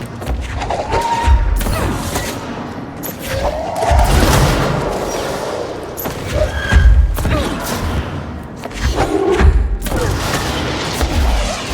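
Homing RPG rockets exploding during combat in the video game Control, a chaotic series of heavy booms, thuds and crashing impacts layered over constant loud rumble, with repeated blasts across the whole stretch.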